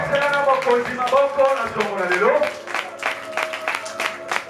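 A church congregation breaks into scattered, continuous applause during a service, with a voice and sung or sustained tones carrying over the clapping.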